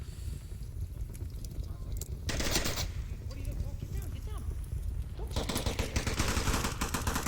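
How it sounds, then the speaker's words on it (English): Rapid gunshot bursts in the VR shooter Onward, fired in sharp clusters that come and go over ambient noise, with speech-like sounds mixed in. "Maybe he's just giving his position away with all these shots."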